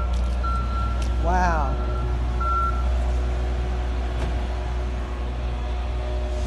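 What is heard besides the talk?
truck reversing with backup beeps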